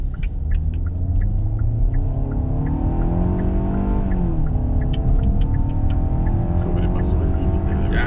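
Kia Sorento 2021 with a four-cylinder engine accelerating on the road, a steady loud engine rumble with rising tones over road noise, with a person talking over it throughout.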